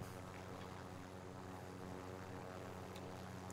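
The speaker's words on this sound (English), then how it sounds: "they turned down the helicopter volume" A helicopter in Call of Duty: Warzone hums with a low, continuous engine and rotor drone, faint and unbroken over a few seconds with no talk.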